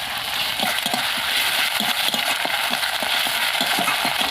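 Chopped garlic frying in hot mustard oil with browned onions, a steady close crackle and sizzle with rhythmic scraping of a spatula stirring the pan.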